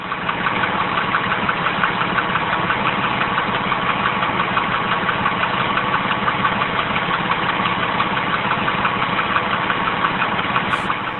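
A Porsche engine with bore scoring idles steadily up close, with a persistent rhythmic knocking tick running through the hum.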